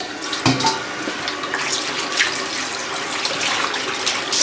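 Running water from a tap pours steadily while pig skin is washed in a sink, a continuous close splashing stream with small knocks.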